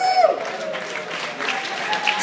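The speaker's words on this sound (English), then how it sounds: "Keep clapping till we get over here!" An awards ceremony audience claps steadily in a dense, continuous wash of applause, moderately loud, with a brief voice or tone audible near the start.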